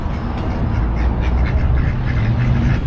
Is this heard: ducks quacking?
yes